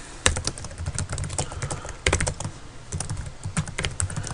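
Fingers tap out a root password on a computer keyboard, a quick, close series of irregular clicks with short pauses and a few harder strokes, and no voices.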